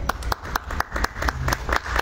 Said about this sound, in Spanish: Por favor, recibámoslos con fuertes aplausos